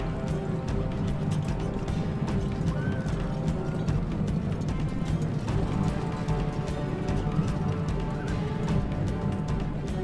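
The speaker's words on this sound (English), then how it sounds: "Heavy cataphracts close in." Heavy cataphract cavalry thunder forward in Total War: Rome Remastered's Battle of Carrhae, a dense rolling drum of hoofbeats over a low battle rumble, sustained and loud.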